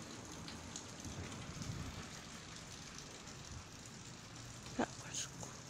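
Heavy rain pours down steadily during a big, loud storm, a dense hiss of drops beating on surfaces around a house, with a brief sharp knock near the end.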